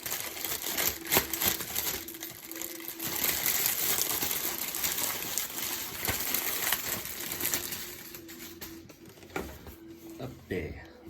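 An Eaglemoss Iron Man Mark 39 figure is unboxed, with steady close crinkling, rustling and tearing of packaging across the whole stretch and a voice speaking at times over it.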